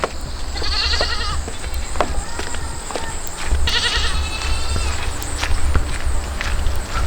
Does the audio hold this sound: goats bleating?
yes